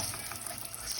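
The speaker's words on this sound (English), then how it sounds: "I'm gonna heat up the pan to cook the tortillas" Tortillas frying in oil in a hot pan while green enchiladas are made, giving a steady, quiet sizzle and hiss with faint crackle, close by and without talk.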